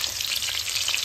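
Cauliflower and radish frying in a pan, a dense, close, continuous crackling sizzle with no voices.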